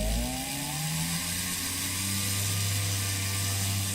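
A tiny jeweler's drill bit bores into a pearl held against wax on a wooden bench pin, giving a steady whining motor hum with a rising pitch at the start, continuous and close, with no talking.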